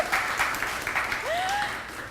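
A studio audience claps steadily in a television show setting, moderate and fairly close, with a voice speaking over the applause.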